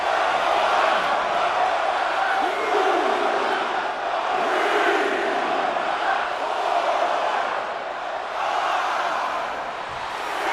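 A large arena crowd cheers and roars in the WWE 2K26 wrestling game, a loud, dense, sustained wall of voices that swells and dips slightly throughout.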